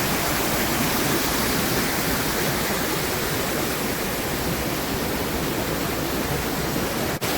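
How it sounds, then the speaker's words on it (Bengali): Steady, loud broadband rush of a waterfall beside a small footbridge on the Pindari Glacier trek trail in Kumaon, a continuous close roar filling the scene with no voices. "দারুণ ঝর্ণা।"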